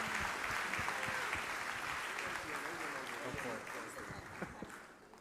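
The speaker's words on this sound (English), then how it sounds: "Let's give them another round of applause" Crowd applause at a university freshman convocation, a dense wash of clapping from a large audience that stays steady and fairly loud before thinning slightly toward the end, with some voices mixed in.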